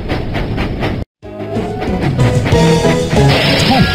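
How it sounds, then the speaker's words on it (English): Thomas the Tank Engine puffs along in a children's Thomas & Friends video game, with busy layered chuffing and game music. A brief silent gap comes early, then the engine sound returns steady and fairly loud, with no talking. "Thomas puffed proudly into the diesel works"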